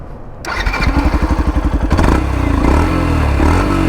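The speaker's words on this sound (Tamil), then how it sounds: "வாங்க நான் வண்டி ஆன் பண்ணி காட்டுறேன், நீங்களே கேளுங்க" A Yamaha FZ-X motorcycle starts with a rapid chugging crank, catches and rises into a firm rev, then settles into a steady, deep idle, loud and close, with no voices.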